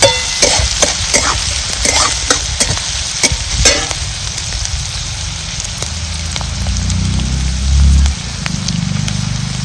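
Onion frying in a pan over a wood-fired clay stove: a loud, dense sizzle like heavy rain, with sharp stirring clicks during the first four seconds, then a steadier hiss over a low rumble.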